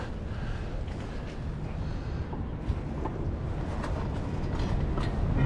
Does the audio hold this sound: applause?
no